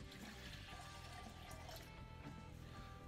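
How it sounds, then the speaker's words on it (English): Water pours steadily into a jug resting on a kitchen scale while pancake batter is measured out, a continuous broadband rush with no speech. "I'm just going to measure out that water"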